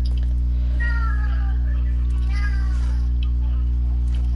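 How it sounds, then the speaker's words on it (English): A cat meows twice in short, rising calls over a constant loud low hum, with a voice nearby. "Oh, cat."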